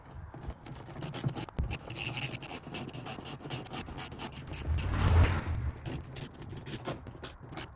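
A ratchet with a 9/32 socket turns screws on Ford Maverick light fittings, giving a dense, continuous scratchy clicking and grinding close up, with no talk.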